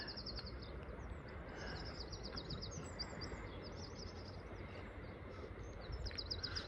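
Sparrows chirp in quick repeated bursts from below at Ventnor Bay on the Isle of Wight, fairly distant over a steady wash of wind or surf noise.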